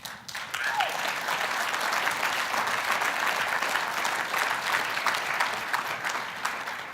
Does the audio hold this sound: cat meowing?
no